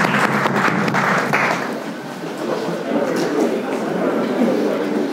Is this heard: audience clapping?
yes